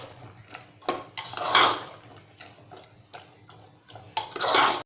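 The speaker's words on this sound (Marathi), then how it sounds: "आपण कांदा खोबऱ्याचं वाटण जे तयार करून घेतलं आहे ते घालूया. छान मिक्स करून घ्यायचं आहे." Onion and coconut paste is mixed into sprouted white peas in a pan, with repeated spoon scrapes and clatters against the cookware, loud and close in uneven bursts.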